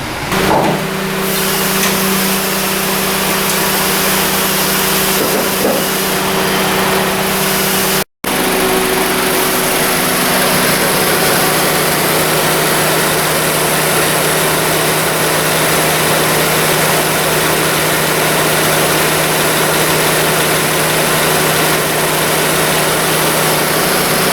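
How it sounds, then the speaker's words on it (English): Honda Civic engine idling steadily with the A/C compressor and cooling fans running, a constant close mechanical hum and whir that holds unbroken apart from one brief dropout. "Pretty sure the compressor's running."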